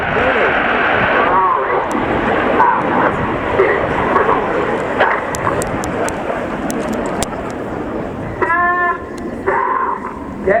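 Red Arrows display jets performing at the RIAT air show at Fairford, a steady broadband roar filling the whole stretch at close, loud level, with voices and crowd chatter mixed faintly underneath.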